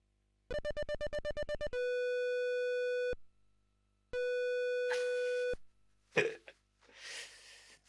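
A telephone line tone in an Amiga adventure game: rapid dial pips, then a long steady tone, a pause and another steady tone, followed by brief noisy bursts.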